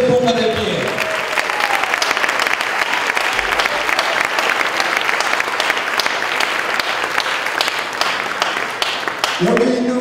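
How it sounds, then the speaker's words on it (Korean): A church congregation at an evening revival service in Nicaragua applauds steadily, dense and loud throughout, with a voice speaking briefly at the start and end. "Dele un gran aplauso cuando él se ponga de pie."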